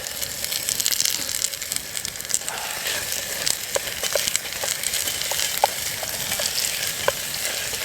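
Fatty hunks of meat fry in a pan for a New Mexican chile stew cooked on a hike, with a dense, steady sizzle and occasional scraping clicks of a utensil, close and continuous with no talking.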